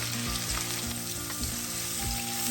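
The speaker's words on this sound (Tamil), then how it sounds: "ஒரு அரைக்கரண்டி அளவு பெருஞ்சீரகம் போட்டு நல்லா வதங்க விடுவேன்." Fennel seeds frying with chicken liver and curry leaves in a pan, a steady dense sizzle with soft stirring scrapes running throughout, close and continuous with no voices.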